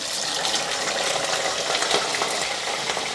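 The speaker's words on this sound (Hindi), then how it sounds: "मटन को डाल देते हैं" Washed mutton pieces hit a pot of hot oil and whole spices for a korma, setting off a loud, continuous sizzle and crackle that stays close and steady with no talking.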